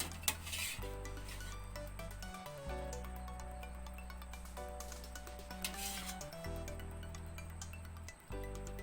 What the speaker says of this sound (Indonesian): Kita tiriskan, taruh di wadah seperti ini.